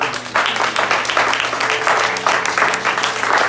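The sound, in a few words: congregation applauding the Lord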